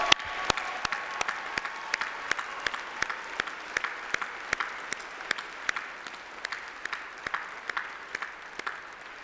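Audience at a UCLan university graduation ceremony applauding, a steady broad wash of clapping with regular sharp claps standing out near the microphone, holding evenly throughout.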